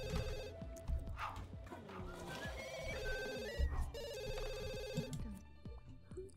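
A telephone rings in The Sims 2 in repeated electronic bursts, alongside game music and brief clicks, the rings sounding clear and fairly close.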